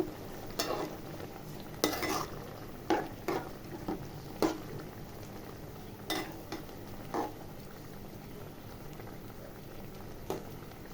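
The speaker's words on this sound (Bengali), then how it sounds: "এবার একটু নাড়াচাড়া করে নিব।" Pumpkin leaves and jackfruit seeds are stirred in a simmering pot, a spoon scraping and knocking against the metal in scattered clacks over a steady bubbling boil.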